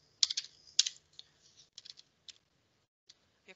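Typing on a computer keyboard: quick close clusters of light key clicks, then sparser scattered taps in a quiet room.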